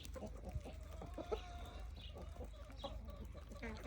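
Free-range chickens in a rural Iraqi poultry yard cluck at feeding time, with soft overlapping clucks and calls from several birds at moderate distance under steady background noise.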